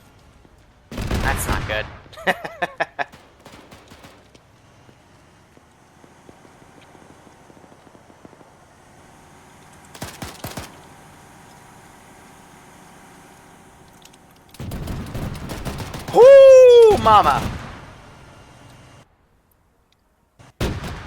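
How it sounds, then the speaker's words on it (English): Gunfire in the video game Arma 3 during an urban assault, scattered bursts of shots near and far separated by quiet stretches, with someone talking briefly between them. "I did hear gunshots close to me as well"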